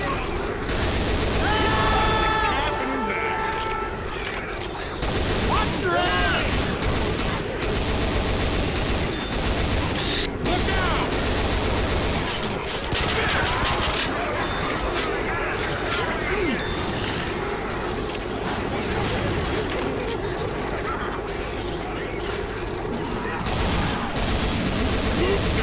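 Near-continuous gunfire from the zombie shooter Left 4 Dead 2, dense rattling volleys filling the whole stretch while players talk over the din.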